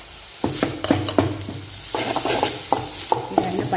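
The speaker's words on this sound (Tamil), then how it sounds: "இந்த எண்ணெயிலேயே நம்ம போட போறோம் ஆனியன் கூட இஞ்சி பூண்டு இத போட்டுக்கோங்க" Onion, ginger and garlic sizzle in hot oil for mutton biryani while a spoon stirs the pan, with repeated scraping strokes over a steady fry.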